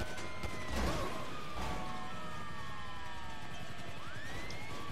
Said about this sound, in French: J'ai ma sirène qui déconne.